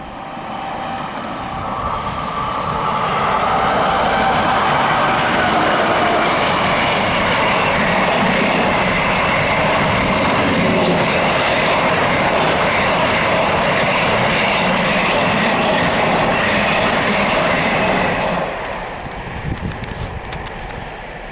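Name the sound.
Avanti West Coast Pendolino train passing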